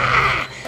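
A cartoon dog's loud voice in an animated fable of a dog and a crow, a short, close, growly dog-like vocal burst that fades out within a second.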